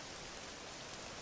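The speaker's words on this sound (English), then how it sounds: "This accursed rain will chill ye to the bone." Steady rain falling in the video game Dragon Quest VII Reimagined, a dense, even hiss of drops with no breaks, alone and fairly faint throughout.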